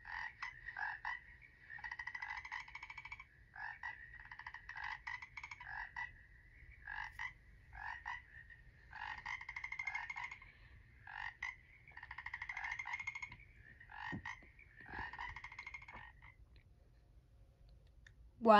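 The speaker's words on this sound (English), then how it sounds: "Frog." A frog croaks in repeated bursts of rapid rattling calls, clear and close, with short pauses between trains over quiet background.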